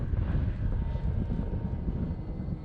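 A radio-controlled model airplane flies in strong wind, its engine drone a steady near hum mixed with gusty wind rumble, without speech.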